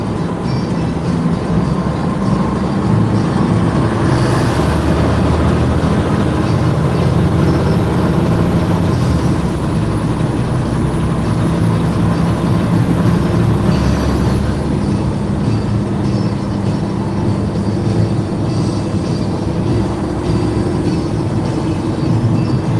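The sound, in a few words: loaded truck driving on road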